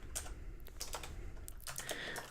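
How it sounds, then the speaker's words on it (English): A mechanical switch keyboard clacks away close up in a quiet room, with quick irregular bursts of keystrokes and short pauses between them. "I think I'm just gonna have to type them in."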